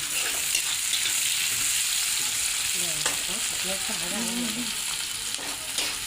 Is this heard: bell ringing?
no